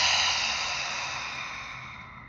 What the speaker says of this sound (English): Let's go in through our nose with a big audible exhale.